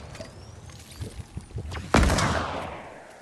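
Shotgun blast in the Fortnite video game, a single loud boom that decays over about a second, following a few softer thuds and clicks of gameplay.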